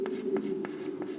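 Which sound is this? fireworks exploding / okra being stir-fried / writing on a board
writing on a board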